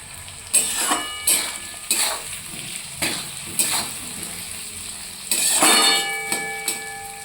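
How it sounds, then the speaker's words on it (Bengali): Potatoes fry in a pan for a chicken curry, a steady sizzle broken by repeated scraping stirs and clinks of a utensil against the pan, each stroke distinct and close. "আলুটাকে ভালোভাবে ভেজে নিতে হবে"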